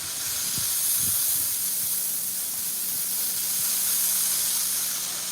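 Butter melting on a hot griddle gives a steady, even hiss and sizzle with a few soft low thumps near the start, constant and moderately loud with no talking.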